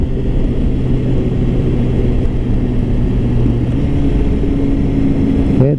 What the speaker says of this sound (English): Okay, downshifting without clutch. Awesome. Hear the bubble rumble. I just got a slip-on this, the GP Akrapovic.